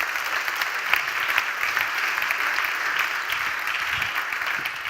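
A sustained round of audience clapping at an innovation program's closing ceremony, dense and fairly loud, holding steady throughout without any talk over it.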